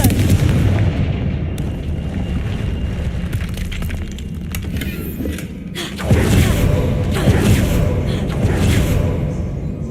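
Repeated blasts from the Confringo fire spell in the Hogwarts Legacy video game, a dense run of booming impacts and crackling debris that swells again partway through, loud and continuous.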